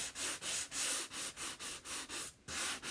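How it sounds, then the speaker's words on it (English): Sanding block rubbed back and forth to distress chalk paint on a board, about ten quick rhythmic scrubbing strokes close up, each a short hiss, with no talking. "I must need a new sanding block because I just used this edge"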